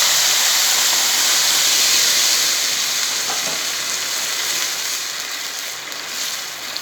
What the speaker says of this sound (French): Nous versons ensuite le bouillon.